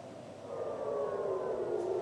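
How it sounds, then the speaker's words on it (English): A wailing air raid siren, steady and fairly distant, its drawn-out tone swelling in volume and then holding, with no other sounds around it. "air raid sirens sounded across more than 200 locations"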